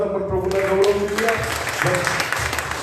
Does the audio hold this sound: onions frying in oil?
no